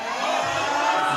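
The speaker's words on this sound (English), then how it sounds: "He's got the crowd behind him." Crowd at a university weightlifting championship cheering a lifter, a dense burst of shouts and whoops rising briefly and held at fairly loud level.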